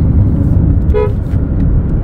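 A single short car horn toot from a 2024 Chery Tiggo 8 Pro rings out briefly over a steady rumbling engine idle, close by.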